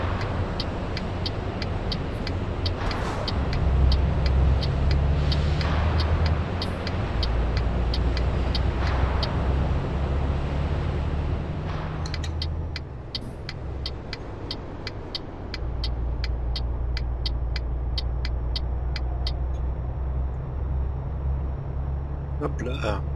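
Truck engine drones steadily while driving in Euro Truck Simulator 2, a low continuous rumble with faint ticking and a brief dip midway, heard under someone talking throughout.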